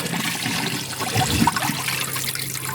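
Water splashes and trickles steadily as Middle Lutetian sediment from the Paris Basin is rinsed yet again, at least the sixth rinse, with a slightly louder swirl midway through.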